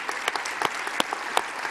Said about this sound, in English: Let's give Magnus a big applause.